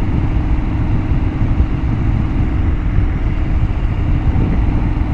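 A Harley motorcycle with a new loud exhaust and new air cleaner idles, a steady, heavy, low rumble that stays constant and close throughout, with no talk over it.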